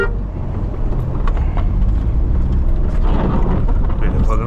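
Maruti Alto car driving along the edge of a narrow road in Shimla, a steady close engine and road rumble with a voice talking over it.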